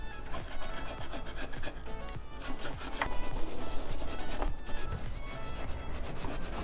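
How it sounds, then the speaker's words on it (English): Brush scrubbing the chain of a 2021 Yamaha TW200 motorcycle, rapid, continuous, gritty back-and-forth strokes heard close up with nothing else over them. "I'm gonna take my brush and just scrub the chain down"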